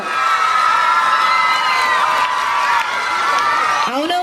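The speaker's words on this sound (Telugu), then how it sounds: "క్లాప్స్ కొట్టాలి పిల్లలందరూ" Schoolchildren at a school Sankranti celebration cheer and shout together in a loud, sustained crowd roar that swells and dips, close and filling the whole stretch.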